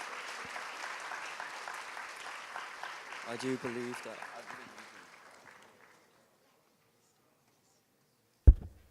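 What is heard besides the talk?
audience applauding panel speakers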